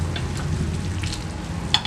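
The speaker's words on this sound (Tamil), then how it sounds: "இப்போ நல்லா கொதிச்சிருச்சான்னு பார்ப்போம்" Water rolls at a steady boil in a pot of baby corn, vegetables and dal for dhaba-style veg biryani, a continuous close bubbling sizzle with no talking.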